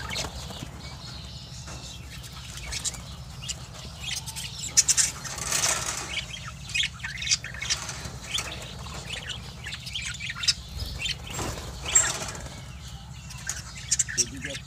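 Pet birds in a breeding colony, including a lutino pair sitting on eggs, chirp and flutter their wings in a busy, continuous scatter of small calls and flaps, with a few louder bursts.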